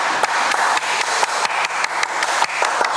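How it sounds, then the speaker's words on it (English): A slow clap of steady, evenly spaced hand claps, about four per second, sounds at moderate volume over a soft, hissing outdoor background, with no voices. "Should we slow clap them?"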